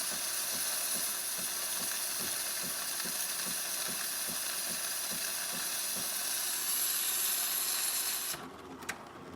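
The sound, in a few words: steam from Jura Impressa espresso machine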